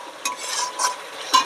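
Chicken curry masala being stir-fried and browned in a pan, with a few short scraping strokes of a spatula over a soft sizzle, close and brief.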